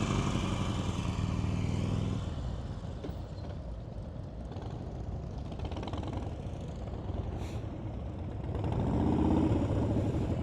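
A motorcycle engine putters at low speed during slow-speed riding practice in California, a modest, uneven drone that swells near the start and again toward the end.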